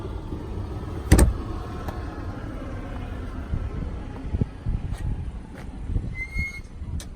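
Power tailgate on a 2013 Audi Q7 3.0T Premium Plus closing by push button: a sharp latch clunk early on, then a low motor hum with faint clicks and a final electronic tone, heard close with no talk.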